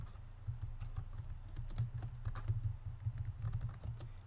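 Fast, steady typing on a computer keyboard while entering a video title, a continuous run of close, crisp key clicks with no voices.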